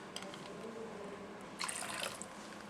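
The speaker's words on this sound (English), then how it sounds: "We're putting the sauce in there, the black sauce." Black barbecue sauce and apple cider vinegar pour into a crock pot for baby back ribs, a soft continuous liquid trickle with a brief louder splash toward the end.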